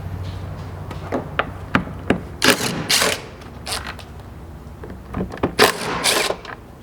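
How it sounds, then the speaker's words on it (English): A 13mm socket works the eight mounting bolts off a Ford Bronco tailgate, giving sharp, scattered metallic clicks and short ratcheting bursts close by, with no talking. "you can grab a 13mm socket to remove the 8 mounting bolts holding this in place"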